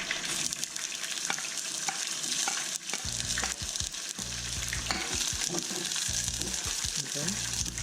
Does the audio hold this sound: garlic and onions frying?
yes